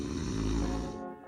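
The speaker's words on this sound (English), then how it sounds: "when you breathe in, all the soft tissue around your throat vibrates, causing that awful snoring sound" Snoring from soft throat tissue vibrating on an inhaled breath: a loud, rough, buzzing rasp that holds steady for about a second, then fades as the breath ends.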